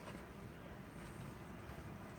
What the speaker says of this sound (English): It's windy here in Portland today